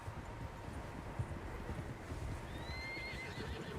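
Horses snort and shuffle with soft hoof clops in the video game Red Dead Redemption 2, then a drawn-out neigh rises near the end over a faint windy background.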